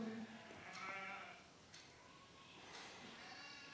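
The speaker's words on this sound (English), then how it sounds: "Some of the goats, they stepped inside the property also" Goats bleat at a retreat property in Badlapur near Mumbai, a few wavering calls at moderate distance over a quiet outdoor background.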